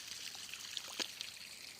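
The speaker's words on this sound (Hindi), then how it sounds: "ये पाइप के द्वारा पानी आ रहा है," Water flows from a pipe on farmland in Madhya Pradesh, a soft continuous trickling and rushing with a few brief splashes, faint and steady with no voices.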